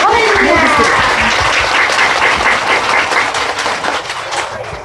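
A large audience at a religious gathering breaks into loud, dense applause, a thick wash of many hands clapping at close range that stays strong throughout and eases slightly toward the end.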